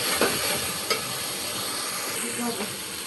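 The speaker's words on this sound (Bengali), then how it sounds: "পেঁপে দিয়ে কষাবো।" Papaya stir-frying with Chandpur hilsa fish in a pan, a dense hissing sizzle with occasional spatula scrapes and knocks, no speech.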